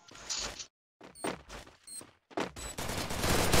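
Gunfire in an online shooter game crackles in rapid bursts, close and loud, separated by short gaps and building into a dense continuous barrage at the end.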